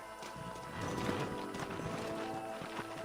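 Horse hooves in Red Dead Redemption patter softly beneath a dense wash of game music and ambience, with a possible whinny, the steps faint and partly masked.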